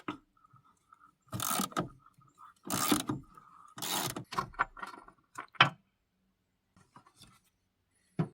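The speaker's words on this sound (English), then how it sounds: "we have our battery tie down that we're going to have to loosen to remove the battery" A ratchet with a 13mm socket on a 10-inch extension loosens the battery tie-down of a Chevy Silverado or GMC Sierra, heard as bursts of quick ratcheting clicks separated by short pauses and small metallic taps.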